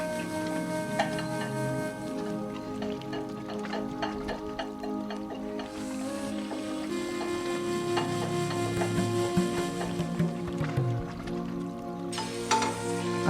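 Two spoons of oil warming in a pan for poha chivda, giving a soft steady sizzle with light clinks and stirring noises, near and continuous.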